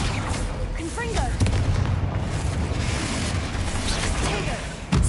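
Confringo explosion spell cast in Hogwarts Legacy on PS5, heard as booming blasts layered in dense, continuous game audio with voices and effects throughout.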